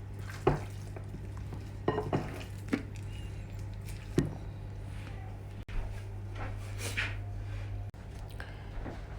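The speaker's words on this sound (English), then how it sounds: "So I'm gonna stir this into it as well" A spoon stirs ginger into marinating chicken for a Jamaican chicken curry, with soft squishing and occasional clinks against the bowl over a low steady hum, no voices.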